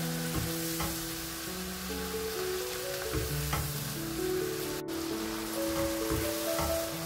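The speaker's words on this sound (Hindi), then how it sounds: "ये तीनों मिर्ची ऐड कर देंगे और मसाले को भून लेंगे" Masala frying with green chillies for masoor dal tadka: a steady, close sizzle with occasional scraping stirs, running continuously beneath a sustained tonal hum.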